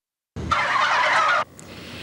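A tom turkey gobbles once, loud and close, a rapid rattling burst lasting about a second before fading into quiet background noise.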